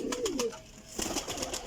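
A black and white racing pigeon coos close by, giving a short, low, throaty call with a falling warble, followed by quieter rustling and murmurs.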